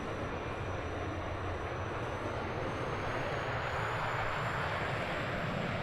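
Boeing B-52 Stratofortress taking off from Minot Air Force Base in Microsoft Flight Simulator 2020, a constant broad jet roar with a deep rumble and a faint high whine, steady and unbroken throughout.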